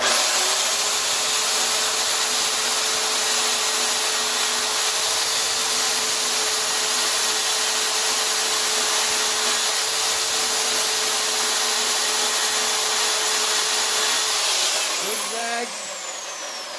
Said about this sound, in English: You're letting the saw do the work.